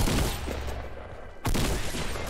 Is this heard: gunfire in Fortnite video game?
yes